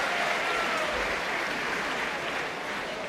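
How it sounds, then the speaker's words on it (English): Boxing crowd at a Jon Thaxton vs Anthony Mezaache EBU 135lb title fight roaring and applauding in a dense, sustained wash of cheers and clapping that fills the hall at steady loudness throughout. "the crowd who roar his every success"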